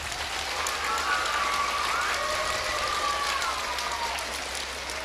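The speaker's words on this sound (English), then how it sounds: "let's give everyone and our parents" A school assembly audience of students and parents at an elementary recognition ceremony breaks into a steady wash of applause, dense and even throughout, with a voice or tone rising faintly above it.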